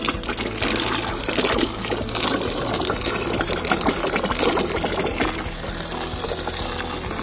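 A homemade solar-powered water squirt gun pumps water in a steady, rushing gush, with a low mechanical hum running continuously underneath.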